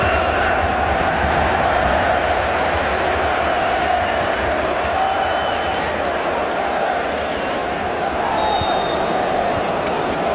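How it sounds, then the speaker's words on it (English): A huge stadium crowd at a Melbourne Victory versus Melbourne Heart football match makes a loud, constant roar that stays dense and unbroken throughout, with a faint whistle-like tone near the end. "there's a huge crowd gathered,"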